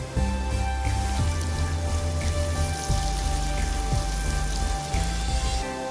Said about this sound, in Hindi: घी को हम गरम कर लेंगे। हमने एक बड़े साइज का प्याज ले लिया, उसको हमने लंबाई में कट कर लिया, इसके अंदर ऐड करेंगे और प्याज को हम फ्राई कर लेंगे।